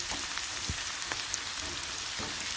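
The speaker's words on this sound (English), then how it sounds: "Scotch bonnet pepper, sauteing just the same way." Onions and Scotch bonnet pepper sauteing in a pan give a steady, close sizzle throughout, with occasional soft clicks as the mixture is stirred around.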